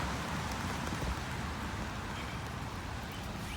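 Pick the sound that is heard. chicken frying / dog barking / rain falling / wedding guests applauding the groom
rain falling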